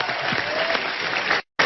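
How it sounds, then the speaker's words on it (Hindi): Studio audience on a television comedy talk show breaks into loud, dense applause that runs steadily, then cuts off abruptly near the end before resuming briefly. "हरीश जी के लिए तालियां हो जाए यार"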